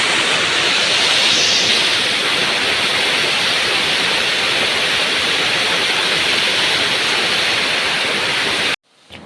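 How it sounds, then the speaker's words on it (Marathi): A waterfall pours near the village of Chimur, giving a loud, dense, continuous rush of flowing water that holds steady and then cuts off abruptly at the end. "हे बघा किती छान मस्त पाणी वाहत आहे"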